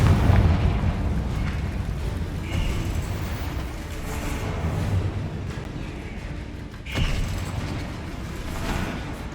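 Explosion spell bursts in Hogwarts Legacy combat on PC, with repeated booming blasts over a dense rumbling game soundscape, one sharper burst standing out near the end.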